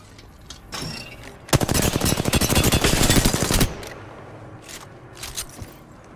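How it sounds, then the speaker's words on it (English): Automatic gunfire in the video game Apex Legends: a loud, rapid burst of shots lasting about two seconds, with a few shorter shots before and after and quieter game sounds in between. "They're shooting at me"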